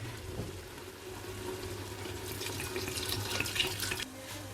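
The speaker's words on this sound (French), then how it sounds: "On va venir rajouter 1 litre d'eau." Water pours into a pot of Moroccan couscous sauce made with tomato, onion, spices, herbs and meat, a steady close splashing rush that swells and then cuts off abruptly, with no talking.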